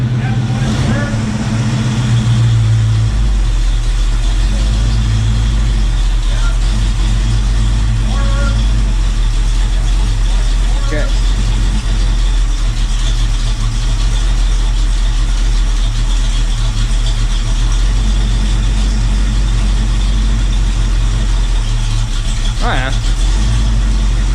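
A 1973 AMC Javelin Pierre Cardin muscle car idles with a loud, steady low rumble close to the microphone, then is shifted into gear with only a slight change in the engine note.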